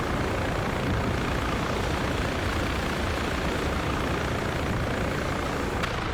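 A Chinook helicopter in an online military game drones as a loud, steady, broadband rotor-and-engine roar with no breaks, close and unchanging throughout.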